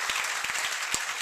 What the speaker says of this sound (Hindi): एक बार जोरदार तालियां बजा दो फिर उठेंगे सर